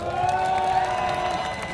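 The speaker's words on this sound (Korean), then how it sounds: "박수 부탁합니다." Festival crowd at an outdoor Apsan festival performance in Daegu, clapping and cheering in a dense continuous roar, loud and close, with sustained musical tones underneath.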